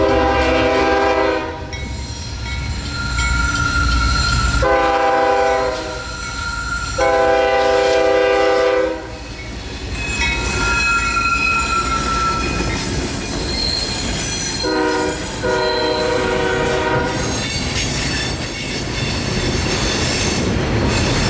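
Freight train with a K422 horn passing at close range, the horn sounding in several loud blasts over a steady rumble of wheels and clattering cars, with no talk.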